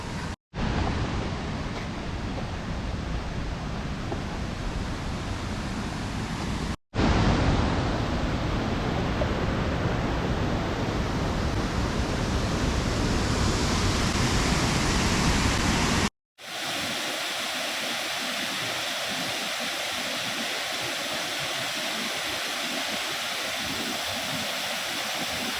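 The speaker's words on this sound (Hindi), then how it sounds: "इस बार तो काफ़ी पानी की तेज़ आवाज़ आ रही है।" Pandav Waterfall in Panna roars with heavy rushing water in monsoon flow, a loud, dense, unbroken wash of noise, interrupted by two brief cuts and then continuing slightly softer and more distant.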